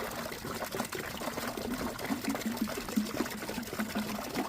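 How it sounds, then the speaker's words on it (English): Water poured from a tap or jug into a container for backyard chickens on a snowy day, a steady close trickle and splash running continuously, with faint outdoor background. "I'm gonna fill this up with water."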